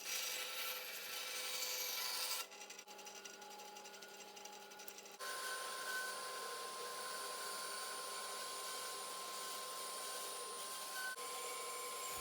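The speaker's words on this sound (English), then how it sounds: "It was time to put this bandsaw through its paces." A bandsaw cuts wood with a faint, continuous rasping hum whose texture shifts a couple of times as the blade works through the cut, with no talking.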